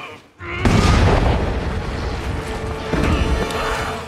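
A sudden loud blast erupts after a brief hush, followed by a sustained roaring rumble of debris and fire that carries on to the end.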